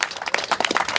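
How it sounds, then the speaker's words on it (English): Applause from the audience at a veterans' suicide news conference, a short burst of dense clapping heard close and fairly loud with no one speaking over it. "I'll give him another round of applause"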